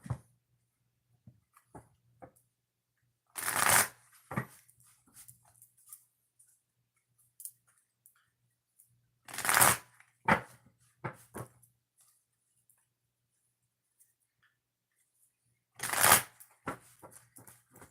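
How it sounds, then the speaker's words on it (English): Oracle cards shuffled in three distinct bursts several seconds apart, each a short crisp flurry of riffling, with faint small taps and rustles between them in a quiet room. "3 shuffles before we start,"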